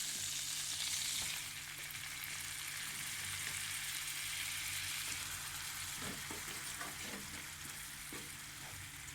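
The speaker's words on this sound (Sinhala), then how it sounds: "ඒකට පාන් පිටි ග්‍රෑම් 250ක් එකතු කරලා මේක හොඳින් මදගින්නේ හොඳට බැද ගන්න ඕනේ විනාඩි 3ක් විතර" Flour stirred into melted butter in a pan over low heat, sizzling and frying steadily with a brief stronger burst at the start and scattered scraping stir sounds toward the end, close and without talk.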